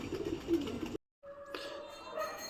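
Pigeons coo softly in a low, murmuring burst that breaks off into a brief silence before quieter calls and faint background sounds resume.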